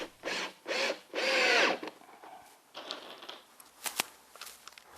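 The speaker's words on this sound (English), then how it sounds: "My battery went dead and I had to change drills to my heavier 110-volt drill." A heavier corded 110-volt power drill drives self-countersinking screws into cement backer board, with several short whirring bursts up close, then quieter scraping and a sharp clack.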